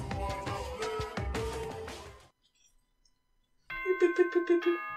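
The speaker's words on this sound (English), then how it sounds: "Ding dong, bing, bong." Doorbell-style ding-dong chime opening a school announcement in the video game Danganronpa 2, a run of about five bright, evenly spaced tones after a stretch of music and a brief silence.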